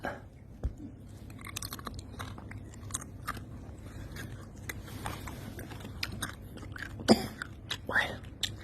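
Close, crunchy chewing of crispy fried chicken with irregular bites and crackles over a low background hum, a few louder crunches near the end.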